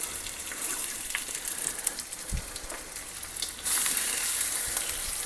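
Short ribs sear in an Instant Pot, a steady close sizzle and crackle with scattered pops and one low thud, the hiss growing louder near the end.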